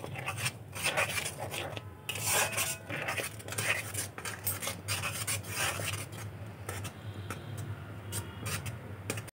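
Raw mango and sugar stirred in a pan while cooking down for homemade sweet, sour and spicy mango candy: close, continuous scraping and rubbing strokes with no voices.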